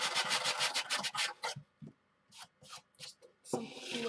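Rough rasping strokes of a small sanding block on a tissue box, a quick run of repeated rubs, then a pause and a few slower scrapes close by.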